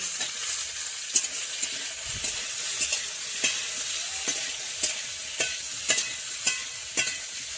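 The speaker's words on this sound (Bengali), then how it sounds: "আবার ভালো করে কষে নিচ্ছে, ঝিঙে কষা।" Ridge gourd is stir-fried in a pan in a village kitchen, a continuous close sizzle broken by repeated sharp scraping knocks of the spatula at an irregular rhythm, with no talking.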